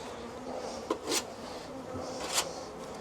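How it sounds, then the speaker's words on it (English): Honeybees buzzing in a very busy hive during a hive inspection: a steady close drone of wings with a few brief louder passes of single bees near the microphone, no talk. "So it's very, very busy hive, as we've seen."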